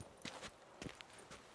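Roach, a horse in the video game Witcher 3, clip-clops along at a walk, its hooves landing in four quiet, evenly paced beats with no talk over them.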